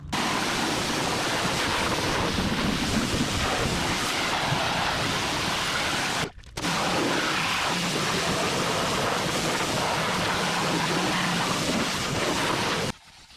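A pressure washer sprays into the engine bay of a 1963 Chevrolet Impala in a loud, steady hiss of water. It breaks off briefly at about six seconds, then resumes and continues close up with no talking.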